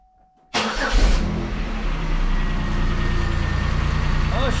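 Pontiac Grand Am engine cranking and catching with a sudden loud burst after a quiet moment, a brief rev, then settling into a steady, close rumbling idle.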